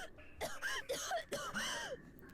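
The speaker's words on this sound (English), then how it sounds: "Jessica suddenly started coughing" Quick burst of several harsh coughs and throat-clearing hacks from a character in the Umineko visual novel game, close and fairly quiet, in an uneven rhythm with short gaps.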